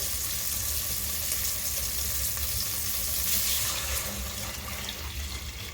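Water is poured steadily into a pot of rice for Chennai-style bagara rice, a continuous moderately loud rushing splash that holds for the whole stretch with no talking.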